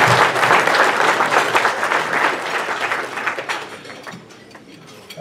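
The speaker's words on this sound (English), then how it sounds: "Let's give them another round of applause." An audience at a business lunch meeting claps in a dense burst of applause that holds strong for a few seconds, then thins out and fades to scattered claps.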